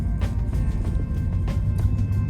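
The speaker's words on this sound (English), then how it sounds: "This is the noise of the car, as you can hear it." A Toyota Yaris 1.3 petrol manual car cruises slowly through a residential area at about 20 mph, giving a steady low engine and road rumble with faint intermittent ticks, quiet and continuous.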